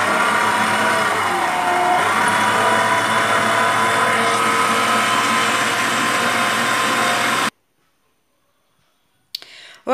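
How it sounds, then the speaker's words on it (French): An electric kneading machine works Turkish bread dough with a steady, loud mechanical whir and hum that runs unbroken for several seconds, then cuts off abruptly into silence before a brief clatter. "donc moi je vais pétrir avec le pétrin"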